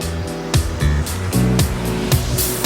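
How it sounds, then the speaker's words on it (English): Water sloshes rhythmically in a gold pan swirled by hand, with repeated close, loud surges that rise and fall about every half second. "We're just going to swirl it back here, swirl the water around."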